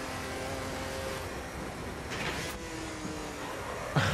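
An Opala 86 stock car laps the Tarumã circuit in Automobilista 2, its engine a steady continuous drone with a brief rise in pitch midway, heard alone.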